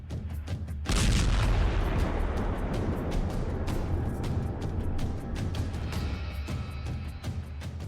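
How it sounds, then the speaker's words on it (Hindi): A sudden loud boom from an explosion in Ukraine, captured on a mobile phone, bursts in and leaves a long roaring rumble with rough background noise trailing on for several seconds. "अचानक एक जोरदार धमाके का वीडियो भी इस लड़की के मोबाइल में रिकॉर्ड हो जाता है"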